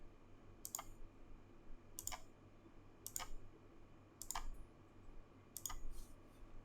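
Computer mouse clicks while selecting edges in FreeCAD: five crisp, close clicks spaced about a second apart over a low steady background hum.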